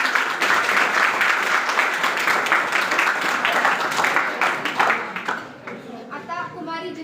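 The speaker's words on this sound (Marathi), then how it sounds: "पार्थ पाटील याने खूप सुंदर पोवाडा म्हणून दाखवला त्याबद्दल त्याच्यासाठी जोरदार टाळ्या होत्या" Hearty applause from a mostly young audience after a boy's powada folk-ballad performance, dense steady clapping that tapers off into scattered claps and a speaking voice near the end.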